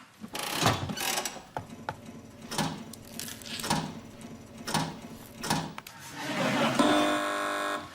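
Slot machine reels spin with a rapid mechanical ratcheting clatter in repeated bursts, ending in a sustained buzzing electronic tone on a comedy news quiz show.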